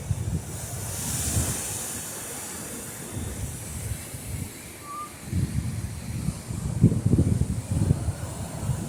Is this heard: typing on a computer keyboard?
no